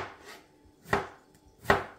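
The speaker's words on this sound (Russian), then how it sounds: "я вот так просто долечками нарезаю" A knife slices a tomato into wedges on a cutting board in a home kitchen, three distinct chopping thuds spaced under a second apart, close and crisp against near silence.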